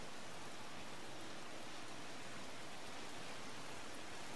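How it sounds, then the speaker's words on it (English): Steady rain in the Sifu video game, a soft, even hiss of falling water that holds constant throughout with no talk over it. "I love the rain though."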